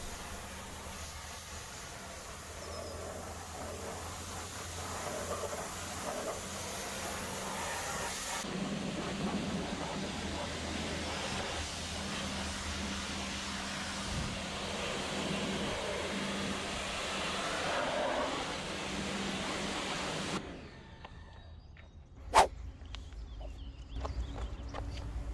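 A pressure washer rinses the wheels of a Honda Civic Type R FK8, a steady loud hissing spray that shifts in tone as the jet moves across the surfaces, then cuts off near the end, leaving a sharp knock.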